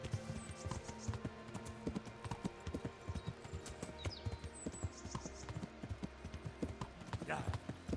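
Horse hooves clip-clop steadily on the ground in the Kingdom Come: Deliverance video game, a fast rhythmic trot heard close with a brief whinny-like sound near the end and a voice talking over it.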